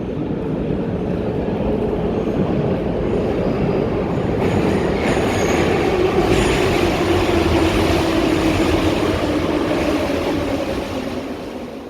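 Soviet-era Tbilisi Metro train on the Green Line, heard from inside the car as a loud, steady rumble with wheel squeal rising and fading over the run.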